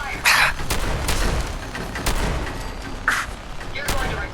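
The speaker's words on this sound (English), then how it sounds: "Opening fire!" Gunfire in the video game Fallout 4: a handful of loud, sharp shots spaced irregularly over a few seconds, each cracking out over a low rumbling game background.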